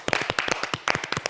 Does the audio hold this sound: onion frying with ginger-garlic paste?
no